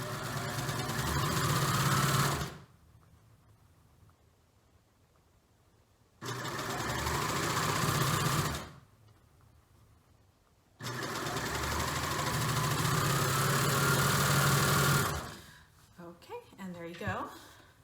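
A sewing machine joins garment pieces in three loud, steady whirring runs separated by quiet pauses, and a person talks briefly at the end.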